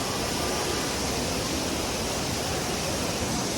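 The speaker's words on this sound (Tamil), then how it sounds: "மேல இருந்து தண்ணி வருது, எங்க இருந்து தண்ணி வருதுன்னே தெரியல." Water pours down at the Erachilpara waterfall near Marayoor, a dense continuous roar with no pause or change in level, loud and close, with no talk.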